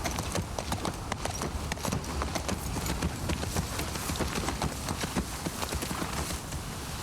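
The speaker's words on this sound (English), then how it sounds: "A horse is noisy" Hooves of a horse ridden in The Last of Us Part II clip-clop in a steady, brisk rhythm of sharp close knocks, continuing evenly throughout at moderate volume with no talk.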